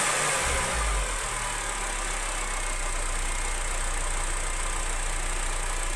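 A healthy car engine idles steadily during a vacuum gauge test, a constant low rumble with a faint hiss, even and unbroken, with no voices.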